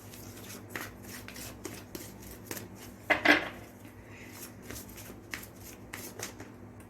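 A deck of tarot cards is shuffled by hand, giving soft, rapid papery flutters and small clicks in repeated bursts, close but quiet, with no voices.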